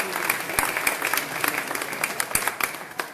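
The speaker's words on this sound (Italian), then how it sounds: "quindi anche per loro un applauso." Short burst of audience applause for a sponsor at an exhibition opening speech, with irregular individual claps standing out from a moderate crowd.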